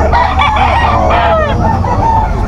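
A young rooster, a stag, crows loudly and close at a chicken market in Malabon, one full crow with clucking from other fowl around it, over steady background noise.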